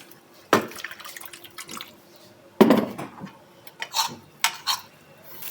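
Water is added to a Turkish dough mixture in a bowl, heard as two sharp close splashes followed by smaller drips and clinks of the bowl.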